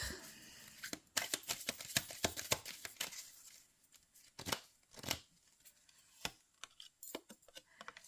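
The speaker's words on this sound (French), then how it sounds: "Je vais vous tirer une petite carte de l'oracle de Lucie pour avoir une petite couleur à donner à ce mois de mars" Oracle cards are shuffled and drawn by hand, a close, quiet run of crisp riffling flicks and papery slaps in irregular bursts, with no talking.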